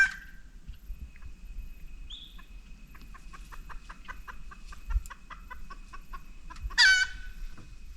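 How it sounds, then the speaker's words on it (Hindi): Wild jungle fowl in a Jim Corbett Park grassland give repeated alarm calls, a run of sharp evenly spaced clucks followed by a louder rising squawk, heard at moderate distance over a low rumble of vehicle or wind. "कुछ ही मिनट बाद 2 और जंगल फाउल बोलने लगे"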